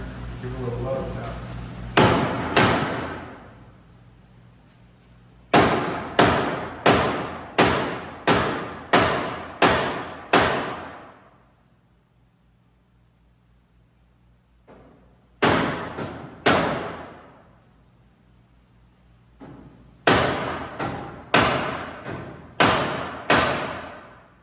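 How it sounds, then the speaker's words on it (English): A Harris Big Daddy hammer taps a part into place in a series of loud, close, sharp knocks, grouped in quick bursts of three to six strikes separated by short pauses. "you get out the Harris tool Big Daddy hammer, give it a little love tap"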